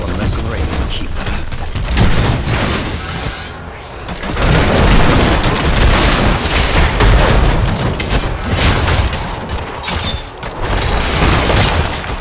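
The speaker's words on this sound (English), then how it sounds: "Fire upon the Grave Keeper." In Heroes of the Storm on the Towers of Doom map, altar cannon shots pound an enemy core in a dense, loud barrage of booms and blasts layered over constant game noise, with an announcer voice at times.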